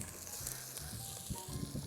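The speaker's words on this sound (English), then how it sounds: "So they'll start by frying" A faint, steady sizzle of onions frying in oil in a pan, with soft crackling textures continuing throughout and no speech.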